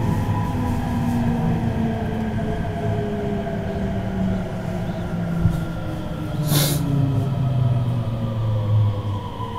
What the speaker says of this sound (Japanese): この電車は越後湯沢行きです。